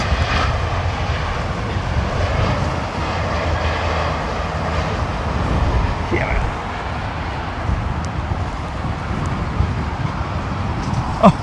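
A large airliner lands at London Heathrow Airport in a blustery crosswind with rain, giving a steady, loud roar of engines and wind that stays sustained throughout, with broadband rumble and no clear speech.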